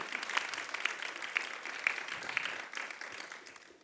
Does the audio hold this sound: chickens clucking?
no